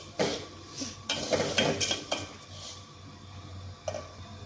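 Vermicelli roasting in desi ghee in a pan, with a few irregular scrapes and clinks of a spoon against the metal over a low, steady sizzle, close and moderately loud.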